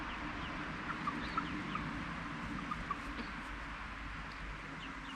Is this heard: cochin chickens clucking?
yes